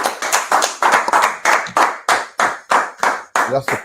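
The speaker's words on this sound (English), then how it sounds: "Clap it up. Clap it up." A group claps together in a steady, rhythmic beat, about a dozen sharp, loud claps spaced evenly and close by, with a voice briefly heard near the end.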